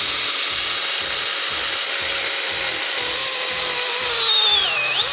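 A Stihl GTA cordless pruning saw cuts through a wooden log with a loud, steady motor whine and chain rasp that holds for about five seconds, its pitch sagging near the end as the blade bogs down.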